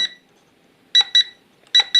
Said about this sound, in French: Quand vous entendez un bip, alors je vais revenir de ce côté-là pour entendre le bip lent peut-être.